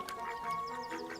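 Weeding ducks at garden ponds quack in a quick, rhythmic series of nasal calls, fairly close and steady, with faint background murmur.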